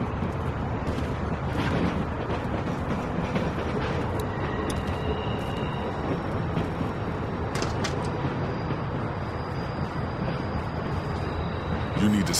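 A moving train in The Walking Dead video game, a continuous rumbling rattle of wheels and carriages with clanks, under tense speech between characters.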